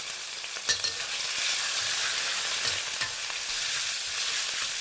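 Chopped garlic in pork lard with pork neck, stir-fried in a pan for sweet and sour pork, gives a loud, continuous, close sizzle with occasional scraping stirs.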